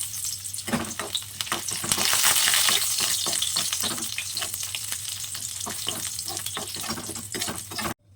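Garlic sizzles and crackles steadily in hot oil in a home kitchen pan, a loud continuous frying hiss with scattered pops and occasional stirring scrapes, no voices.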